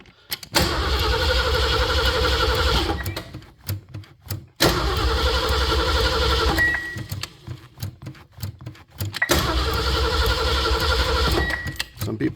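An engine cranks after sitting for 30 days, turning over in three long bursts of rapid, rhythmic starter churning separated by short quiet gaps, close and fairly loud, without catching.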